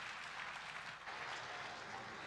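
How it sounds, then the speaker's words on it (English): A conference audience gives a steady round of applause for the panelists, a dense continuous patter of many hands heard from a moderate distance, with a brief dip midway before resuming. "Ladies and gentlemen, a big round of applause for our amazing panelists."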